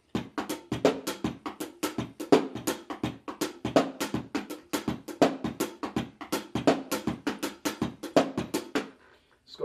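A drum kit plays a steady linear groove, single hits alternating between kick, snare and hi-hat in a tight, even rhythm, close and loud, ending abruptly.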